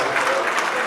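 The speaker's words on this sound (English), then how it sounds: "Please, can we just give him a round of applause?" Dense applause from an audience at a Toronto gathering of Nigerians, filling a short burst of steady clapping close and loud, with no voices standing out.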